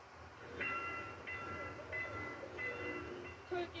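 A commuter train passes a railway crossing in Goyang, Gyeonggi Province, at night, its rumble running under repeated high warning tones from the crossing that sound in regular bursts.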